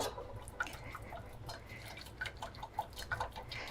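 Water dripping and trickling from drained food shaken in a colander, a scatter of small irregular drips and light splashes, close and fairly quiet.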